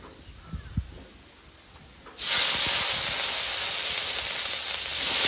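Ground onion paste hits hot oil already tempered with dried red chillies and cumin, bursting into a loud, steady broadband sizzle after a couple of seconds of quiet clinks, then hissing continuously close up with no voices.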